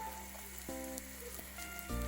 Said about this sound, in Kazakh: Енді ысып тұрған табаға аздап сұйық май құйып,